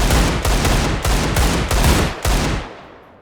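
Desert Eagle pistols fired in a modded Minecraft superhero game, a loud rapid string of about six heavy shots at a steady beat, then a fading tail.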